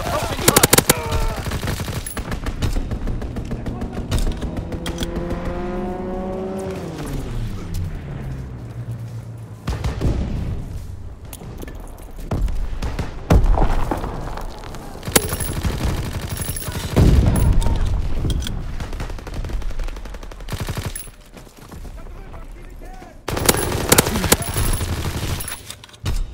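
A fighter aircraft makes a strafing run in Call of Duty WWII team deathmatch at a flak tower. A descending engine whine dives in, then loud rattling bursts of gunfire and booming impacts follow, with brief gaps between volleys.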